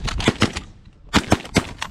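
Shotgun blasts during a goose and duck hunt over decoys, a cluster of sharp reports in two bursts separated by a short lull, close and loud.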